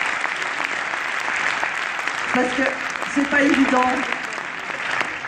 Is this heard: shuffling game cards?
no